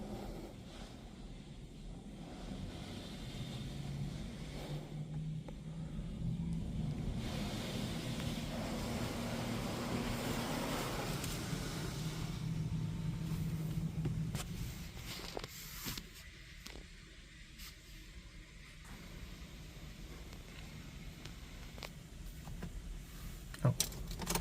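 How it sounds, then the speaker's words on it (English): Inside a car at an older Washworld Razor automatic car wash at a Mobil station in Beaumont, California, pre-soak cleaning product hisses steadily against the bodywork as a soft, continuous, muffled spray heard through the car. "A pre-soak cleaning product is now being applied to your vehicle."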